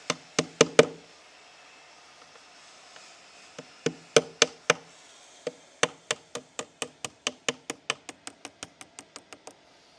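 Sharp hammer knocks during a window installation on a building site, a cluster of four quick blows, then scattered strikes, then a long steady run of evenly spaced raps, close and loud.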